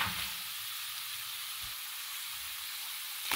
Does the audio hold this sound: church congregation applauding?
no